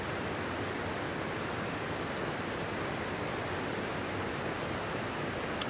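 A creek flows in Washington State jade country with a steady, broadband rushing wash, close and constant for several seconds with no voices over it.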